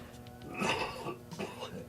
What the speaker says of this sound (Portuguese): essa tossezinha aí, seca que não passa, é um pigarrinho danado